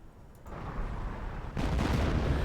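An artillery barrage in the Company of Heroes 1 video game rolls in as heavy, rumbling blasts, swelling into a louder, denser roar partway through with no talking.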